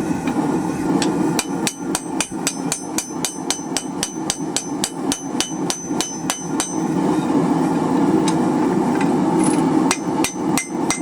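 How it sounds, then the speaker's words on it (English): Hammer blows ring on hot steel while a hanging hook is forged, a rapid run of sharp metallic strikes at a steady rhythm, then sparser hits over a loud roaring forge background. "Clean up our hammer blows here."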